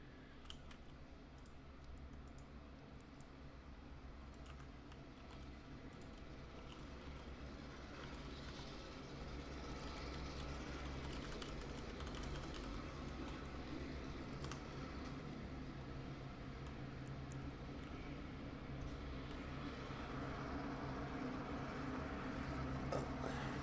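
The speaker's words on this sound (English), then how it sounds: "There's a train going by my window." A train passes outside a window, heard faintly as a low, steady rumble with light rattling and clicking that slowly swells louder across the stretch.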